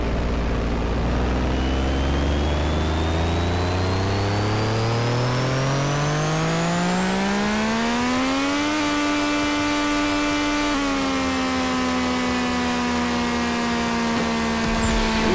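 A Ferrari-build car engine running with nitrous revs steadily and loudly from a low rumble to a high pitched whine, holds at the top for a couple of seconds, then dips slightly and keeps screaming.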